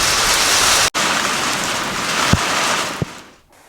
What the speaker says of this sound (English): There is a little bits of hail coming down.